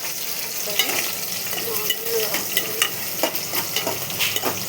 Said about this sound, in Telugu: ఇట్లా ఉల్లిగడ్డ, పచ్చిమిర్చి అన్నీ వేగాలి. నూనెలో ఫ్రై కావాలి.